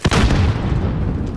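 In the Call of Duty Warzone video game, a loud, booming burst of gunfire hits hard and then trails into a rumbling, noisy wash of shots close by.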